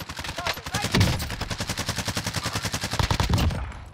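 Rapid automatic gunfire from the CR-56 AMAX rifle in the video game Warzone, a fast rhythmic burst of loud shots repeating steadily across the clip with a few heavier thumps mixed in.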